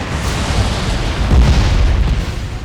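A car blows up after ramming another vehicle in the Suburban Terror level of the video game Twisted Metal: Black. The blast is a loud, sustained, rumbling burst that swells midway and fills the whole clip with no talk.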